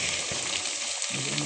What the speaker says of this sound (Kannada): ಶುಂಠಿ ಬೆಳ್ಳುಳ್ಳಿ ಪೇಸ್ಟ್ ಸ್ವಲ್ಪ ಫ್ರೈ ಆಗಲಿ ಎಣ್ಣೆನಲ್ಲಿ.